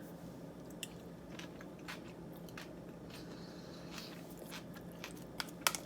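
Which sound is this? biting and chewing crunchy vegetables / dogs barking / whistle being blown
biting and chewing crunchy vegetables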